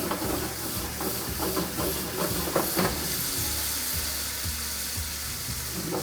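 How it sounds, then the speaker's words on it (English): Wine hits a hot pan of browned vegetables and hisses loudly in a steady, steamy sizzle that holds without pause. "we're gonna deglaze it with some wine"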